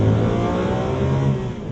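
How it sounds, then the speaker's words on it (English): A Lamborghini Aventador supercar engine revs hard and close, a loud, sustained roar whose pitch climbs steadily before easing slightly at the end, heard alone without speech. "the engine speeds up, what's so remarkable about it is that it doesn't just get louder and more aggressive sounding"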